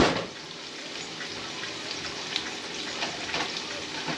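Onions sizzling in butter in a hot skillet, a steady close crackle and hiss with soft pops scattered throughout, heard alone without talking.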